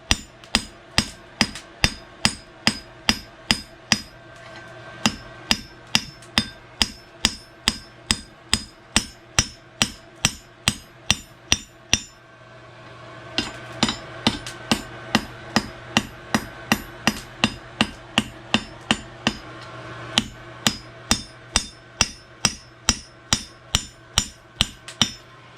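Hammer forging a horseshoe on an anvil, dozens of sharp ringing metal blows in a fast steady rhythm, broken by one pause midway, loud and close with no talk.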